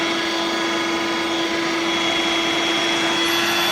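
A Hoover Dirt Devil Vibe 3-in-1 corded stick vacuum cleaner runs continuously up close, a loud, steady motor whine with a constant tonal hum and no breaks.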